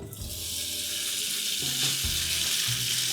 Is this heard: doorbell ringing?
no